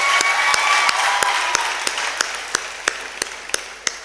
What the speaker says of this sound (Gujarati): જોરદાર તાળીઓ બેન માટે.